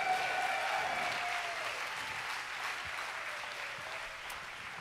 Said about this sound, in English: would you get loud and clap your hands and thank the Lord?